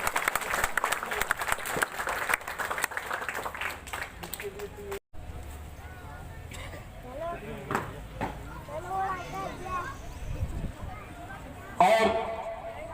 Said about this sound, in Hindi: एक बार जोरदार तालियों से मेजर जयराम का अभिनंदन।